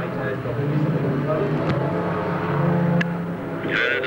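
Crazy cars racing around a stadium oval at Long Eaton, engines droning and rising in pitch as they pass, loud and continuous, with a commentator talking over the track noise.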